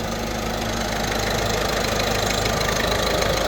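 Steady idle of a Peugeot Partner van engine with an alternator fault, a dense continuous drone with a faint rhythmic knock, heard close and alone.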